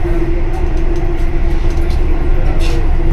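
A metro train at a platform on an urban line, a steady loud low rumble with a sustained mechanical hum, brief hiss bursts and faint background voices throughout.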